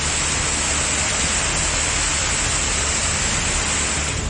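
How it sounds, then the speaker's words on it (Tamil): Heavy rain in the Shoolagiri and Bargur area of Krishnagiri district pours down in a loud, dense, continuous wash with no breaks. "கிருஷ்ணகிரி மாவட்டத்தில் சூளகிரி, வேவண்ணப்பள்ளி, பர்கூர் சுற்று வட்டாரத்தில் 1 மணி நேரத்திற்கு மேலாக இடி மின்னலுடன் மழை வெளுத்து வாங்கியது."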